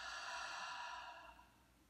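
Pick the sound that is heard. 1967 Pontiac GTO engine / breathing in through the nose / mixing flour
breathing in through the nose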